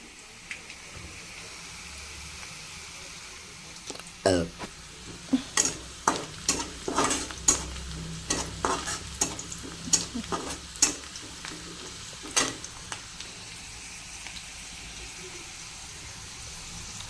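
Onions fry until reddish for a soybean curry, quiet at first, then a run of sharp, repeated spatula scrapes and clacks in the pan over a soft sizzle before settling back to a low hiss.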